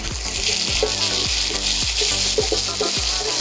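Ginger-garlic paste frying in oil with a fish head for Bengali moong dal, a constant close sizzle broken by rhythmic spatula scrapes against the pan roughly every half second, with no talking.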